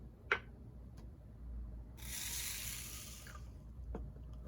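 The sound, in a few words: water poured onto desiccant products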